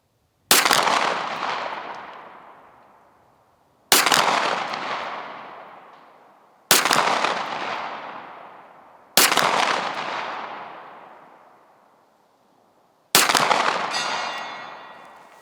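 Five loud, sharp gunshots from a Walther PDP pistol crack out one at a time, several seconds apart, each followed by a long echoing decay across an outdoor range, with no talking.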